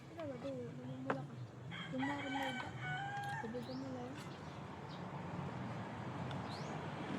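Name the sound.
chickens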